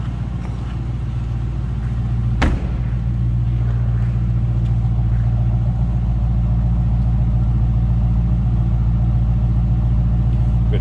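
A 2010 Dodge Challenger R/T with a 5.7 liter Hemi idling at the rear, a steady, loud, deep rumbling exhaust drone that holds throughout, broken once by a brief sharp knock.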